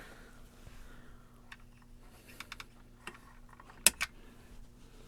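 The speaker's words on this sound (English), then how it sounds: "And then we'll cut the excess off of there." One sharp snip of cutters trimming an excess electronic component lead while a second output channel is built, close and brief, among faint scattered clicks and handling taps.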